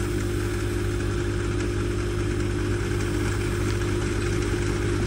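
A bus engine idles steadily and loudly at close range as the bus rolls slowly down trailer ramps, a constant low rumble with no pauses.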